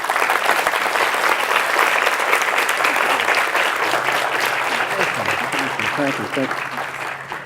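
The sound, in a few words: audience applause for a speaker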